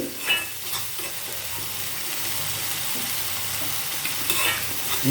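Onion and tomato masala sautés in a pan, a steady sizzle with scraping stirs and a few sharper clicks of the spoon, close and unaccompanied by talk.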